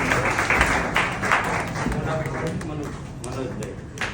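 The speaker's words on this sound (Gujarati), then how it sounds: "આપણે બીજાને થોડુંક આશ્વાસન માટે તાળી પાડી દીધી" A group claps for the second-ranked student in an exam ranking, a sustained crowded patter of hands that stays even throughout, with voices murmuring underneath.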